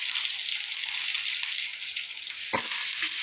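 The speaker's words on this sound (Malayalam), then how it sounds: "കരിയാപ്പില ഇട്ട് കൊടുക്കാം" Curry leaves hit hot oil in a pan for Kerala-style chicken theeyal, producing a loud, continuous, close-up sizzle with one sharper burst of spitting partway through.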